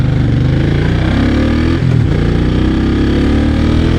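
A 1996 Honda Magna 250cc motorcycle engine hums loud and close while riding, with a brief throttle blip and rev change near the middle before it settles back to a steady drone.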